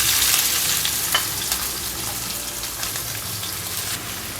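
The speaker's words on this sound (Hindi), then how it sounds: "अब हम इसके अंदर ये प्याज डालेंगे।" Chopped onions hit a hot pan of oil with browned cumin for a traditional baingan bharta, giving a steady, dense sizzle and crackle throughout, close up and without talk.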